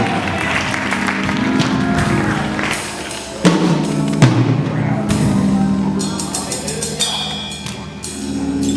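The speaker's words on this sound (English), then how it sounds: "Come on, clap your hands" A church congregation clapping hands as a pastor is welcomed, steady crowd clapping mixed with music and voices, full and lively throughout.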